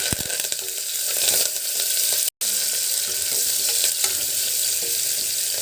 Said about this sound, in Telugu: ఇది కొంచెం ఎర్ర ఎర్రగా వచ్చేంత వరకు వేగనిద్దామండి